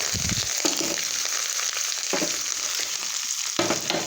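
Garlic, curry leaves and a little coriander fry in hot oil for a spinach dish, a loud close sizzle and crackle with bursts of stirring scrapes.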